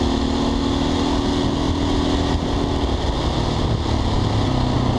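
Husqvarna 510 SMR supermoto motorcycle engine running loud and steady close by, a dense continuous roar with a low drone and no voices.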